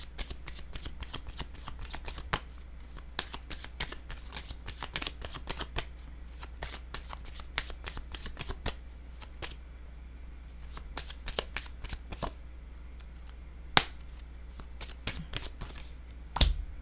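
Playing cards riffled and shuffled repeatedly in quick, crisp bursts of flutter and snap, close and fairly quiet over a steady low hum, with no talking.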